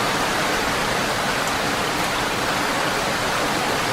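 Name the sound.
heavy rain falling, radio drama sound effect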